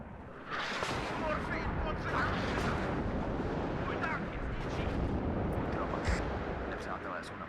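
Artillery fire in the WARNO real-time strategy game, shells landing in a constant roaring barrage of overlapping booms and crackles, dense and sustained, with occasional sharper pops above the rumble.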